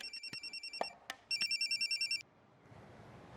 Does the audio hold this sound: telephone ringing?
yes